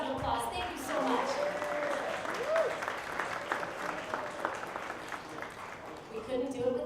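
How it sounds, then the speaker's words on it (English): A pub crowd at a cannabis science trivia night gives a round of applause for sponsors, moderately faint clapping from a room of people that tapers off, with a voice talking over part of it. "If everyone could give them a round of applause."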